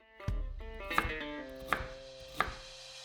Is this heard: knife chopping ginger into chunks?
yes